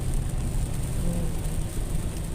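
Steady rain pours down during a drive, a continuous hiss of drops with a deep low rumble of the moving car beneath, moderately loud and unbroken, with no voices.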